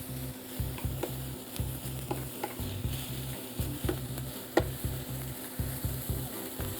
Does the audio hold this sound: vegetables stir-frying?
yes